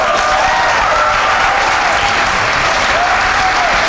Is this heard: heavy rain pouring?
no